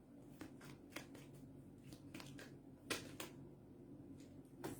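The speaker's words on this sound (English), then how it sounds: "I am going to pull a card just to see." Tarot cards are handled and pulled from a deck, giving a quiet series of soft, crisp flicks and slaps at irregular intervals, close up and faint, with no voices.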